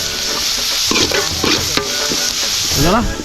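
Beef rib curry frying with garlic, green chilli and curry leaves, sizzling loudly and steadily while a spoon scrapes and stirs through the pan close by.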